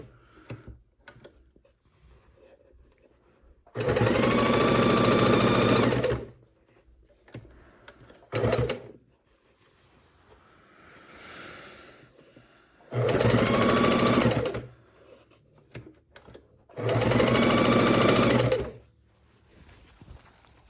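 A sewing machine stitches the binding on a quilt in three sustained runs of steady whirring, with brief pauses and handling noises between the runs.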